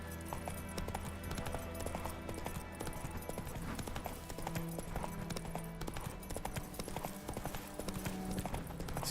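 Steady clip-clop of the horse Roach's hooves in Witcher 3, a quiet continuous trot with a faint low hum beneath.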